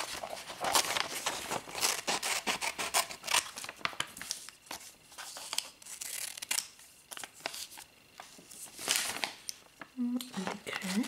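Scissors snipping and paper crinkling as pages are cut from a supermarket brochure, close and quiet with irregular cuts and rustles, under soft talk.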